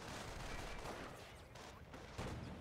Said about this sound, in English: Oh, defensive artillery being used.